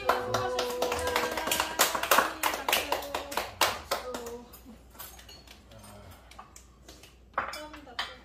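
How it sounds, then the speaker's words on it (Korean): Family members clap for their mother at a holiday meal table, a burst of loud close hand claps mixed with clinking dishes and cutlery, thinning into scattered taps as voices talk over it. "엄마가 수고 많이 하셨으니까 엄마한테 박수"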